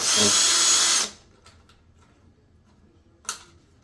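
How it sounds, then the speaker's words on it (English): Small screws come out of a Samsung range control panel as a power driver whirs loudly for about a second, then stops, leaving near silence and one brief click. "there's 2 screws here. You just need to take those out as well."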